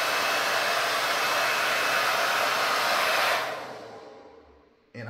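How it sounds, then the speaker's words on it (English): The cooling fan of a TYCORUN 1000W power inverter roars as a loud, steady broadband whoosh while it runs under a load of nearly 900 watts, then spins down and fades out, followed by a brief click-like noise. "The fan goes off whenever I turn the load off"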